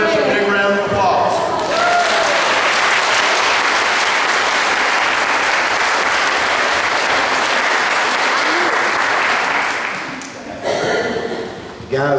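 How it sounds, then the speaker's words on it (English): An audience at a town commissioner candidate forum applauds the candidates, with dense, sustained clapping and some cheering that holds steady for about ten seconds before tapering off near the end. "let's give our candidates a big round of applause"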